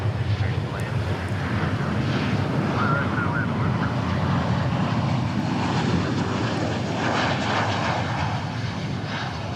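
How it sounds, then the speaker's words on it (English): A Qantas jet airliner flies on approach over DFW airport, a steady broadband engine roar that holds loud and constant throughout, with faint talk beneath it. "I do see our Qantas flight on the downwind leg"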